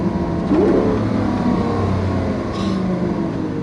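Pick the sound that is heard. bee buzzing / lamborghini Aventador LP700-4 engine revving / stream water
lamborghini Aventador LP700-4 engine revving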